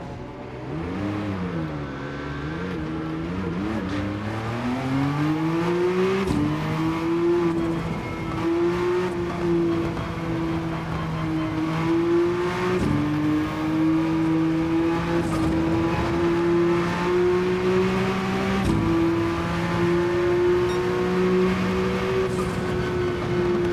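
A Porsche sports car engine revs hard on a race track, climbing in pitch through each gear and dropping sharply at several upshifts. The sound is loud and continuous, with no talk over it.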